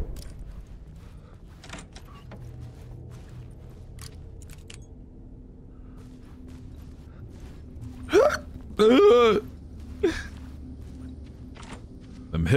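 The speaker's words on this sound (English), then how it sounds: "Them hiccups be hitting on the other side." A few sharp, close hiccups sound over a quiet room background, one alone, then a quick pair, then another single one a moment later.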